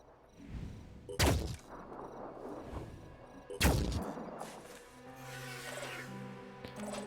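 Weapon fire in the Phoenix Point video game, two sharp heavy blasts a few seconds apart, each followed by a rough rumbling tail, with quieter mechanical rustling and a low hum between.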